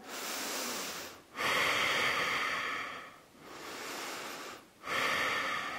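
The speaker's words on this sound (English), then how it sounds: "Breathing here." Slow, deep yoga breaths alternate between long airy inhales and exhales during a beginner and advanced practice session, close and steady with a brief pause between each breath and no talking.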